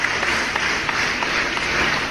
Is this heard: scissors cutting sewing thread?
no